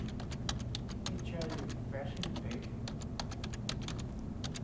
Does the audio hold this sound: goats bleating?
no